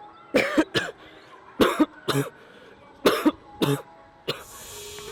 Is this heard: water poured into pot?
no